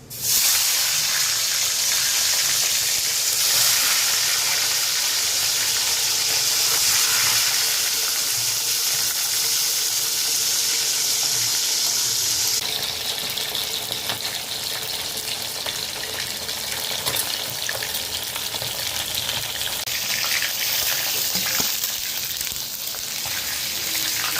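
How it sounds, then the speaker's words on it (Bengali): Fish sizzle in hot oil tempered with black cumin, a loud, dense, continuous frying hiss throughout that eases slightly partway through, with no talking. "তেলটা গরম হয়ে গেছে এবার কালো জিরে ফোড়ন দেবো মাছগুলো ভাজবো"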